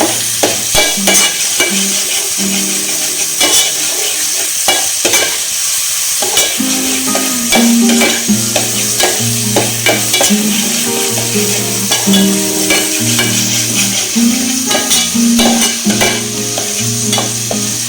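Chicken pieces with dried red chillies sautéed in a pan until browned, loud steady sizzling with repeated rhythmic scraping and clanking of a spatula throughout, no voices.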